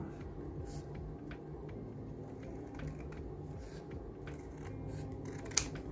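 Scissors trim paper scraps during crafting with a tab puncher and index cards, making faint, quiet snips and rustles in a calm room, with one sharper click near the end.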